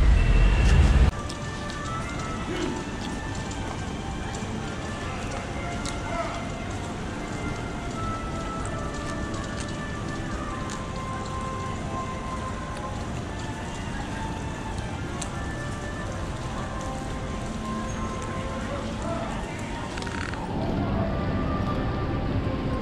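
Steady rain pattering on the old stone-paved street of a historic European-style avenue, a dense even hiss throughout with a brief louder thump at the start and no talking.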